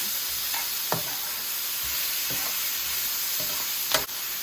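Garlic sizzling in a pan for General Tso chicken, a steady bright frying hiss broken by several sharp spatula scrapes and taps, close and loud with no talking.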